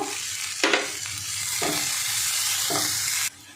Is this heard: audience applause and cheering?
no